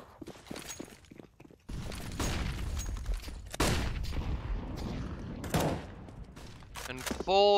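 Rapid bursts of rifle fire in a Counter-Strike esports match, with a spray aimed into a smoke grenade, crackling in dense clusters under steady commentary.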